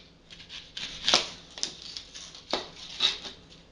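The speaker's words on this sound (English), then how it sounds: "You want to cut your onion in half." A kitchen knife cuts through an onion on a cutting board, giving a few crisp, sharp crunches and taps spaced about a second apart, close and fairly quiet, with no talking.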